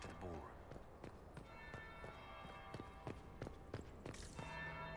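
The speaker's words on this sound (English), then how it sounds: "That's the bell." A bell chimes in a Dragon Age: Inquisition palace setting, several struck tones ringing out and overlapping with clopping footsteps and steady background bustle while a voice talks over it.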